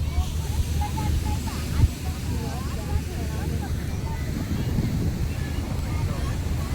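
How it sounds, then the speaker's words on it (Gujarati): Steady, rumbling sea wind buffets the microphone outdoors on the coast during the monsoon, with faint voices barely audible beneath the gusts. "બ્લોક છે ને વાયરો થાય છે"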